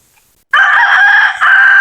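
A rooster crows loudly and close by during a hot-weather bathing of tethered chickens: one sustained, strained cock-a-doodle-doo that begins abruptly after a short silence and wavers briefly near its end.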